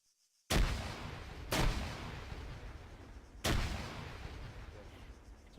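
Three booming frag grenade explosions go off in ARMA 3, spaced unevenly over several seconds, each a heavy blast followed by a long rumbling tail.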